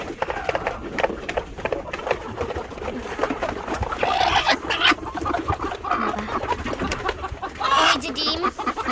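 Hens clucking close by beside freshly laid eggs, including a new hen, in a string of short, irregular calls that rise above a steady background rustle.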